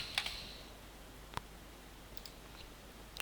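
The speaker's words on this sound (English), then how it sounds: "So middle mouse click here" A few sharp, isolated clicks, close and fairly quiet, spaced irregularly against a soft background hiss.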